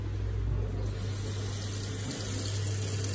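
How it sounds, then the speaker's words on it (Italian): Water runs steadily from a kitchen tap in a newly moved-into house, a loud continuous splashing rush into the sink that lasts throughout with no talk. "E poi c'è l'acqua."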